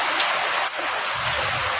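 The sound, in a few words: rain falling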